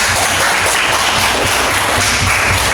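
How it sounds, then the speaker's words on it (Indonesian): A classroom of students bursts into loud, close applause, a thick continuous patter of many hands clapping at once that stays strong and even from start to finish. "Ya, tepuk tangan"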